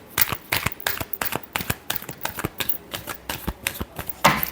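Tarot cards being shuffled by hand, a quick run of crisp riffling snaps and flicks at close range, fairly regular in rhythm, ending in a louder burst.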